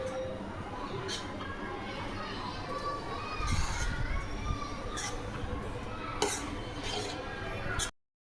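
Cheese filling for paneer lifafa being stirred and mixed in a bowl, with soft scraping and a few utensil clinks over steady background noise and distant children's voices.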